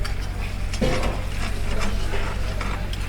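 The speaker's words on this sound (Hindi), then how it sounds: "अभी इसकी मिक्सिंग होगी, अच्छे तरीके से बुनाई होगी।" Mutton karahi being stirred in a pan, a steady scrape and clatter of a spoon against metal over a continuous sizzle of frying meat, close and fairly loud, with no talking.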